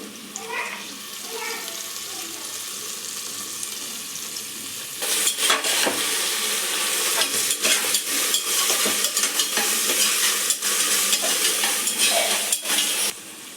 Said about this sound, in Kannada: ಇಲ್ಲಿ ನಾನು ಶುಂಠಿ ಬೆಳ್ಳುಳ್ಳಿ ಪೇಸ್ಟ್ ಹಾಕೋತಾ ಇದ್ದೀನಿ